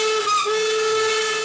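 A train's steam whistle gives one sustained, steady tone with a breathy hiss layered over it, close and fairly loud, and no voices.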